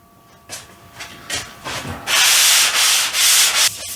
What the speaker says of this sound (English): Some very light sanding, takes no effort.